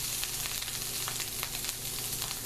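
Cooked pasta shells fry in a pan, a dense, steady sizzle with faint crackles and light stirring scrapes, heard up close with no voices.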